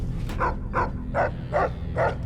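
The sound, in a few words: dog barking in video game Fallout New Vegas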